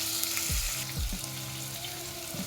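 Ginger garlic paste, a ready-made store-bought kind, sizzling in a hot pan during veg biryani cooking, a steady close frying hiss with a few low thumps as it is added and stirred, no talking.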